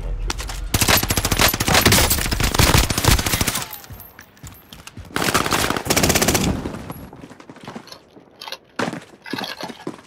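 Heavy automatic gunfire in the Warzone video game, long rapid bursts broken by short pauses, loud and close, ending in scattered single shots.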